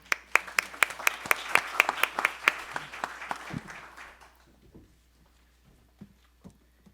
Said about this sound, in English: we'll give an applause for him